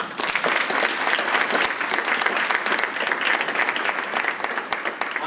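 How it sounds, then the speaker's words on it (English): Students in a school opening-session audience applaud the consultants with steady, dense clapping that fills the whole stretch at an even, sustained level, with no break or fade. "I would like for you to give all of the consultants a round of applause"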